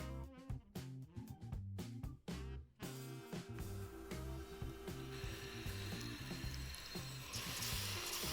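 A kitchen blender whirs loudly through onion, ginger and other ingredients for a cabbage stew, opening with choppy pulses and then settling into a steady, high-pitched motor drone that thins as the blend gets smoother.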